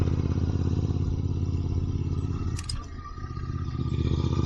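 A motorcycle engine revving at an off-road practice ground, a loud continuous mid-pitched drone that dips briefly with a light clatter before surging again.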